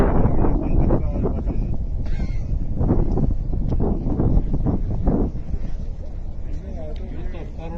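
Strong wind blowing dust in Mustang, Nepal, produces a loud, continuous buffeting rumble throughout, with people talking over it.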